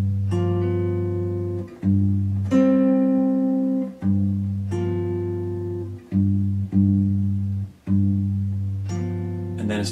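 Blues rhythm on guitar, played slowly with the thumb picking low bass notes under chords: repeated plucked figures in an even, unhurried pulse, warm and close, with notes ringing between strokes and no talking.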